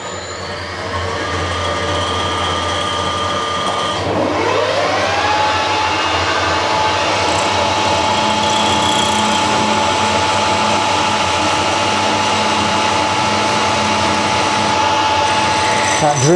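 Drilling with an F letter drill bit, a blunt new one, to tap for a 5/16 Whitworth screw on a Clarkson tool and cutter grinder table nut; a steady machine whine and grinding cutting sound begins after a few seconds and runs continuously, close and loud.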